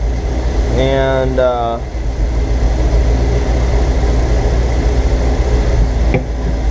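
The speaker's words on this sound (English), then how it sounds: "So yep, idle engine 15 minutes," A car engine with a leaking head gasket idles with a steady low rumble, while a brief warbling tone sounds early on and a short tap comes near the end.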